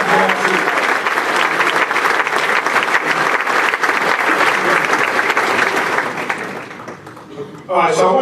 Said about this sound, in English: Josh, give him a round of applause.